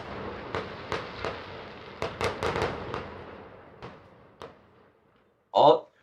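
Several sharp firework bangs and crackles pop in irregular bursts, some overlapping, then fade before one last loud burst near the end.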